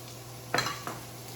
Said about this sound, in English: I'm just stirring as I go because I don't want it to stick or burn